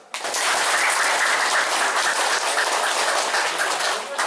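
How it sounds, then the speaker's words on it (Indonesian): Loud, dense applause from an audience at a Muhammadiyah gathering in a mosque setting, a steady wash of clapping that holds evenly throughout without voices over it. "Tepuk tangan."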